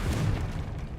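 A Confringo fire spell detonating in Hogwarts Legacy, a single deep, rumbling boom that fills the moment and fades out quickly, heard without any speech.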